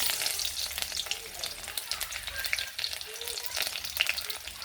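Finely chopped onion frying in hot mustard oil, a close, continuous crackling sizzle with rapid popping, fairly quiet overall.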